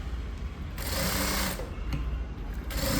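A sewing machine stitches blouse lining and main cloth together in continuous bursts, the motor whirring steadily and loud up close with brief pauses in between.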